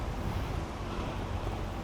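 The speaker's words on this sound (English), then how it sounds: "It's getting very windy." Strong wind blowing outdoors at a tree-planting event, a dense, steady roar pressing on the microphone throughout.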